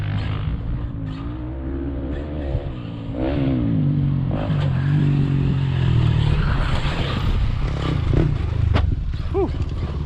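Traxxas RC truck driven at full speed outdoors, a high electric motor whine rising as it accelerates, with rattling and scraping over rough ground, close and steady.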